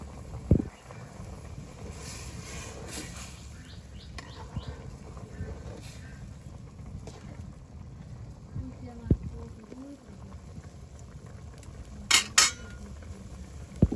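River fish being stirred in a pot and covered with a lid while cooking outdoors in a village, with scattered metallic clinks and scrapes, a couple of sharp utensil knocks and steady wind noise under quiet background talk.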